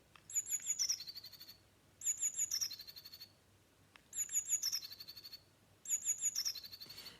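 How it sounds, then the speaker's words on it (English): A blue tit calls in four repeated bursts, each a bright high trill of rapid notes followed by a buzzy tail, evenly spaced with short pauses, clear and fairly close. "You might hear that noise in your garden, and that means that there's a blue tit nearby."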